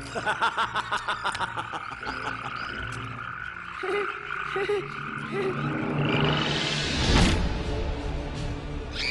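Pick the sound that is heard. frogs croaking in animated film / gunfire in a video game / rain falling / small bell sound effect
frogs croaking in animated film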